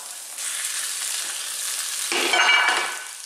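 Fresh tuna loin off-cut dropped into a hot pan, the steady fry swelling into a loud, bright sizzle as the fish lands and then gradually settling back down.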